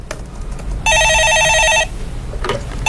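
A telephone rings during a live call-in radio show, one loud electronic ringing burst of about a second cutting in between quieter studio sounds.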